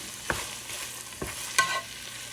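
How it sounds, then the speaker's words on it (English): Sausage and onions frying in a large pan, a soft continuous sizzle broken by a few sharp scraping stirs of a utensil. "I love onions cooking."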